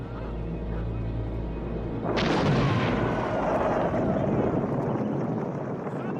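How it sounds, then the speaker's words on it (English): A heavy explosion in a 1990 war film about a plot to kill Hitler, a sudden loud blast bursting out of a low rumble and giving way to a sustained roaring, crackling wash. "Achtung! Schwere Explosion im Abschnitt 1."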